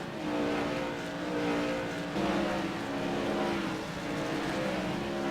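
Modified race cars roar around the track at USA International Speedway in a New Year's tour mod race, a steady engine drone rising and falling as the field passes, heard from the stands without talk.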